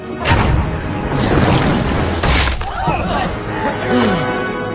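Cartoon jelly bomb blasting in the Avatar: The Last Airbender series, a series of loud booming bursts and crashing debris rolling through dense background commotion.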